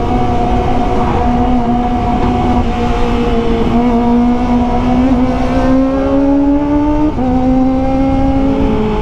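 Kawasaki ZX25R inline-four sportbike engine running loud and close, a high, steady tone with several gear-like rises and drops in pitch as it revs continuously.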